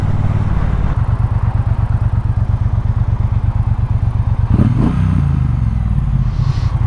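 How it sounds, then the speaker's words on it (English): A Triumph Speedmaster motorcycle idles with a steady, throbbing pulse, then a sharp rev blips up briefly and settles back to the loud idle. "The old rev bomb"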